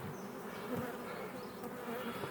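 A dense, steady hum of many honey bees buzzing close together in a hive, continuous and droning with no pauses.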